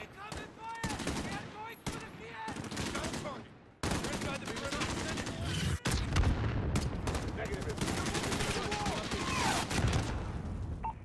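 Gunfire in the Call of Duty: Modern Warfare video game campaign, with dense rapid bursts of automatic fire and heavy shots cracking almost nonstop, loud and close, with voices mixed in.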